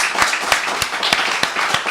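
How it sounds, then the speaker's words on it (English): Scattered applause from a small audience during an Irish television program, a few sharp individual claps standing out above a soft steady patter, fairly close and moderately loud. "I think that deserves a round of applause."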